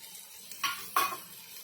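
Onion and tomato sautéed in a pan for a vegetable toast filling: two quick, faint stirring scrapes with a light sizzle, no talking.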